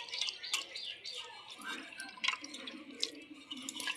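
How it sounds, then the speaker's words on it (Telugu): Water poured into cooked tomato and tamarind pulp for pepper rasam, faint splashing and dripping in small bursts, quiet and close, with soft kitchen handling between. "ఇలాగా కొన్ని వాటర్ పోసుకుందాము"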